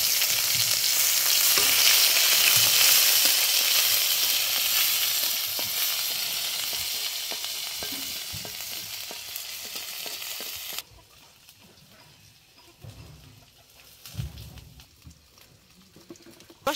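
Spice paste sizzles loudly in hot oil for a Bengali bottle gourd and katla fish-head muri ghonto, a steady dense frying hiss that fades after about eleven seconds to quieter, sporadic crackles and stirring clatter.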